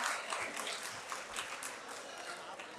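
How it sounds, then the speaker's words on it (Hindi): An audience at a mushaira poetry event in Lahore applauds, dense scattered clapping that holds fairly steady at a moderate distance throughout. "भरपूर तालियां बजाइए अम्मार इकबाल के लिए।"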